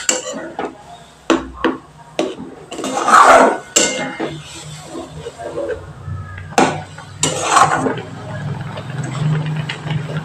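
Milk goes into fried semolina in a pan on a gas stove, with clattering pan and utensil knocks, scraping and a soft liquid sizzle, close by alongside a speaking voice.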